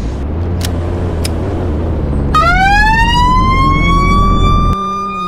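An ambulance siren in the video game Greenville kicks in partway through with a loud, rising wail over a constant engine rumble, then the low rumble drops suddenly near the end while the siren carries on.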